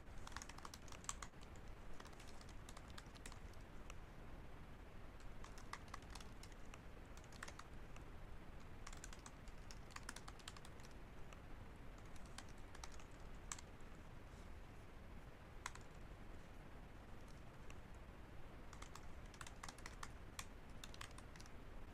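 Steady, continuous typing of code on a computer keyboard, a dense run of close, quiet key clicks lasting throughout with no talking.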